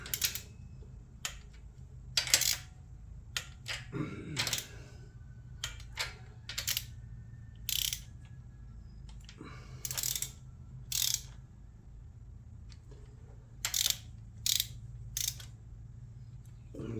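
Ratchet snugs bolts during a cam swap on a Toyota Tercel wagon with a 4A engine, giving short bursts of quick metallic clicks spread across the clip, separated by quiet gaps.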